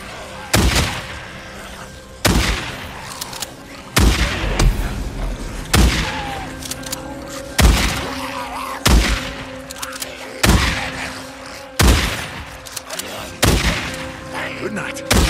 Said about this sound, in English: A badass shotgun